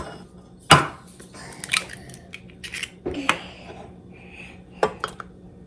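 Two eggs are cracked against a mixing bowl in a home kitchen, producing sharp clicks and knocks on the bowl that are spaced apart, with some softer handling noises between them.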